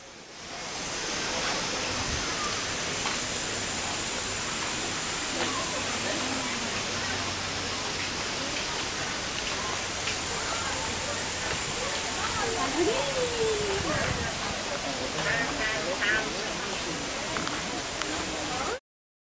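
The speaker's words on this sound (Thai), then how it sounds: "ทำเป็นน้ำตกจำลอง" Steady broadband rush of falling water from an artificial waterfall at a restaurant, constant and fairly close, with faint voices and birdsong mixed in underneath.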